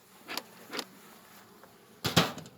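Honeybees buzz at a hive opened for inspection during work on drone-laying colonies in Belarus, with a few short swells of buzzing as bees fly close past, separated by a quieter hum.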